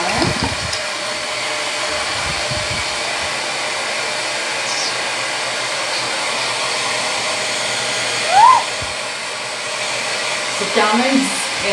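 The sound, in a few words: hair dryer drying freshly dyed pink hair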